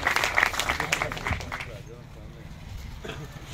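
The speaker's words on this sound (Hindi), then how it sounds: "तालियां बजा के इनको वेलकम कर दें" An audience at an outdoor political gathering in Islamabad claps in welcome, a burst of scattered applause that fades under a speaker's voice and crowd murmur.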